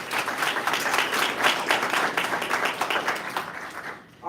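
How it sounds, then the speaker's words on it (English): Steady applause from an audience at a congressional briefing on gun violence, dense continuous clapping at moderate loudness for about four seconds before cutting off. "please give the round of applause for Ms."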